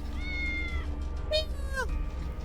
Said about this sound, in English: It's difficult to hear clearly, but I think that's a cat meowing.